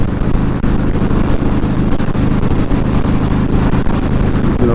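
An aging car's engine drones steadily at about 3,500 RPM while cruising at 75 mph, a dense low rumble with road and wind noise filling the whole stretch without a break.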